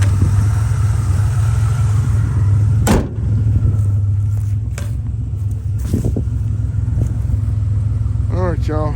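Abandoned one-owner Turbo Buick Grand National with 32,000 miles idles with a steady, deep engine rumble. A few brief sharp knocks and clunks break through near the end, and faint voices talk in the background.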